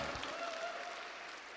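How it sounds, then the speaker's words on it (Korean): Applause from the audience at a Democratic Party joint campaign rally in Jeju, a steady, dense clapping wash that holds evenly for the whole stretch at moderate, slightly distant level, with no one speaking. "뜨거운 박수로 맞아주시기 바랍니다."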